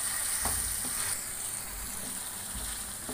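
Chicken karahi sautés with spices and chopped green chillies over a medium flame, giving a steady close sizzle with a few soft stirring scrapes and no voices.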